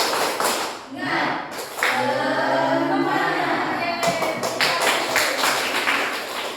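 A class standing in a teacher-training lesson does 'tepuk semangat', a rhythmic chant-and-clap ice breaker: sharp patterned claps mixed with the students' chanting voices, with a burst of clapping near the end.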